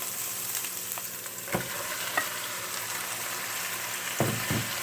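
Chicken frying in a pan with softened onion and ginger, an even sizzle broken by a few sharp spoon knocks and scrapes as it is stirred, no talking.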